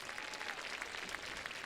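Crowd applause rises at a high school football game between Beauregard and Sylacauga, a steady distant clapping across the stands for an injured player.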